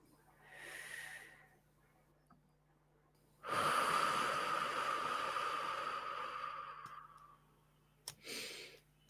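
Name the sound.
deep breathing, long breaths in and out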